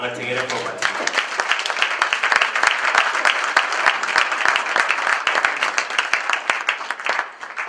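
Congregation at a Wednesday church service breaking into sustained applause, many hands clapping densely and steadily for several seconds after a brief voice at the start, then tapering at the end.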